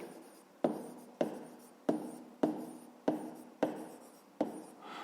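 A math solution is written out by hand, seven or so evenly spaced strokes each starting with a sharp tap and trailing off in a scratchy rasp, close and quiet with no talk.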